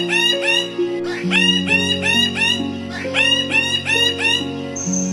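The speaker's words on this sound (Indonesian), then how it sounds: "Betapa terkejutnya Ibu Baira melihat burung itu mengulang-ulang suaranya." A bird repeats its call again and again in a rapid, rising series of chirps, loud and close, over steady music with no talk.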